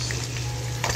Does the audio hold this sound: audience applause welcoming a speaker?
no